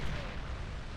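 A D gun fires in the Beyond All Reason real-time strategy game, a single heavy low boom that rolls on for about a second.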